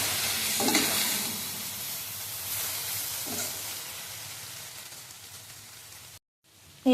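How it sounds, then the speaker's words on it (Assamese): Ground cumin, coriander and chili powder fry in a pan for a sweet star fruit pickle. A close, continuous sizzle carries a few scraping stirs, then cuts to brief silence near the end. "এই গোটেইখিনি মছলা দি অলপ ভালকৈ ভাজি ল'ব।"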